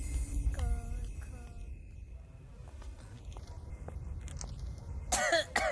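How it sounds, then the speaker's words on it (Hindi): A person coughs in a Hindi film scene, with heavy, throaty coughs near the start and a sharp, loud burst toward the end, over a low background hum. "बहुत खांसी आ रही है"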